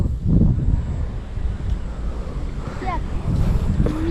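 Wind blowing across a microphone outdoors while a two-metre moon kite is flown, a loud rumbling gusty roar with brief higher whistling tones, and people talk over it.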